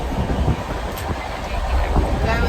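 A passenger train on the Panvel to Mathura route is heard from inside the carriage: a loud, constant rumble with a rhythmic wheel clatter and no voices.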